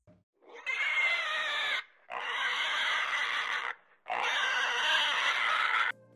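Pigs squeal in three long, loud, shrill bursts with short gaps between them, close and with no talking.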